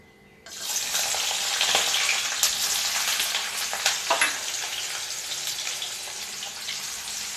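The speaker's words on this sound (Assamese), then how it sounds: "চিকেন চাও বনাবৰ কাৰণে মই কেৰাহীত তেল দি গেছত উঠাই দিছো" Onions hit hot oil in a kadai while chicken chow is being cooked, bursting into a loud, steady sizzle that continues to the end with faint crackles and no talking.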